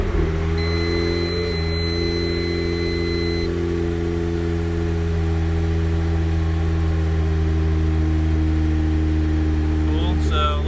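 A Toyota MR2 time attack car settles into a steady, close idle, its low engine drone holding evenly throughout without clear revving.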